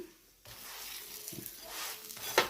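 A radish paratha frying in ghee on a pan, a soft continuous sizzle with light scraping and pressing sounds and a brief sharper crackle near the end.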